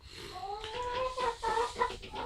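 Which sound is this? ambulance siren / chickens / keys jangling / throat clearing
chickens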